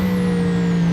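A trailer truck's air brake gives a steady loud hiss with a strong sustained tonal hum running through the whole second, with no pause.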